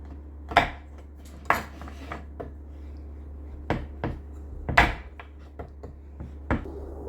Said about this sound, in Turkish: Çikolatalarımı şimdi şöyle parçalara böleceğim ve bu şekilde erimesi daha kolay olacak.